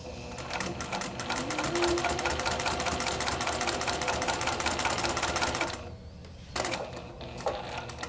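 A sewing machine stitches along a faux leather strap, its needle running in a fast, even mechanical rattle close by. The motor stops briefly near the end, then starts again in a short final burst.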